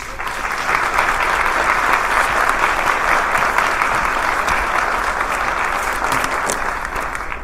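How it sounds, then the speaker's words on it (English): Sustained audience applause at a keynote talk by a chef at a Chicago small business event, dense and steady throughout at fairly loud level, no voices standing out. "not me, a round of applause."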